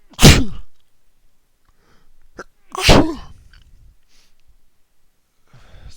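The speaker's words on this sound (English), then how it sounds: "That was quite a sneeze." Two loud, sharp human sneezes a few seconds apart, each a sudden burst with a breathy tail, separated by quiet pauses and faint breathing.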